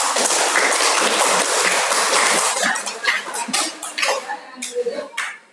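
A classroom of students applauds a performing group, dense clapping close by that thins out into scattered, separate claps and then stops.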